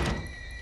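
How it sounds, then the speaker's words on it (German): A door swinging shut in the horror game Outlast 2: a single short, dull thunk with a brief hollow rattle, fairly close and moderately loud, fading into a low ambient hum. "Tür zu."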